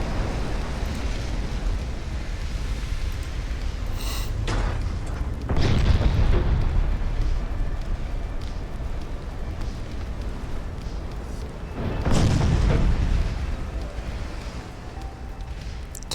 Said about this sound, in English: Ooh, torpedo detonation.